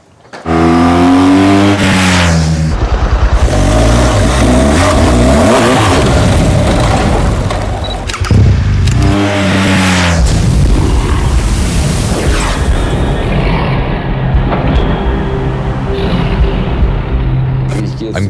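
A new 2013 BMW R 1200 GS motorcycle rides off. The engine roars loudly and continuously throughout, with rising and falling revs and a brief dip midway as it pulls away.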